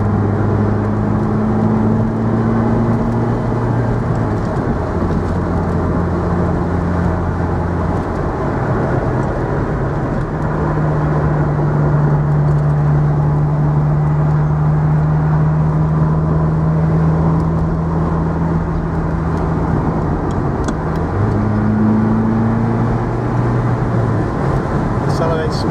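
A 1982 Ferrari 308 GTSi with about 43,400 miles idles smoothly and steadily with no misfires, a continuous low engine drone that holds even for the whole stretch, with faint shifts in pitch and no talk over it.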